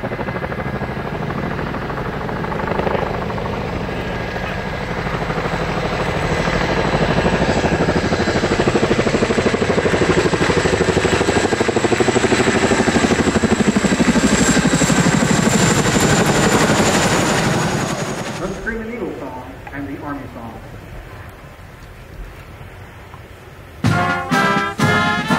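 A Chinook heavy-lift helicopter of the 101st Airborne Division flies over a change of command ceremony. The loud rotor thrum builds, holds and then fades away, followed by a few sharp cracks near the end.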